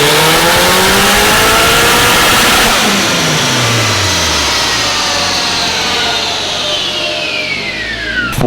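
A Nissan S13 four-cylinder engine revving hard on a dyno, a loud close roar that climbs in pitch, holds high, then winds down near the end.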